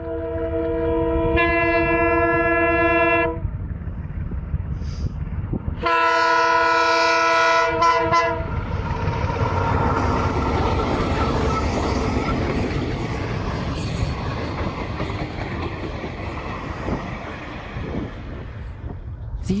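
Freight train departing Otjiwarongo, Namibia, with sulfuric acid tankers on gondolas, sounds its horn in two long blasts over a continuous loud rumble and clatter of rolling wagons close by.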